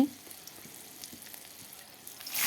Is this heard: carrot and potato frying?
yes